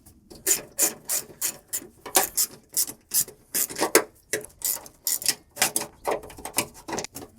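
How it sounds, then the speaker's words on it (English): A hand ratchet backs bolts out of a 1995 Porsche 968 headlight assembly with a steady series of close, crisp clicking strokes, each pull a short rasping burst in an even working rhythm. "Let's just take off those 3 bolts."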